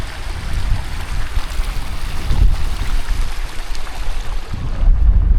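Breezy wind blowing outdoors at an army range, a steady broadband rushing with low rumbling gusts buffeting the microphone, loud and continuous with no voices.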